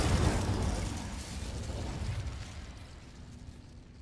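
An Incendio fire spell is cast in the Hogwarts Legacy video game on PS4, releasing a loud roaring whoosh of flame and crackle that surges, then slowly fades over a few seconds.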